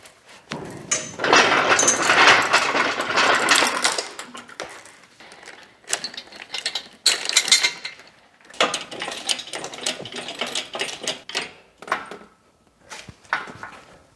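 Hand tools clank, ratchet and knock against metal while a BMW E31 850i V12 engine is stripped down in a workshop, with a dense burst of busy clattering early on, then intermittent clicks and taps, no talking.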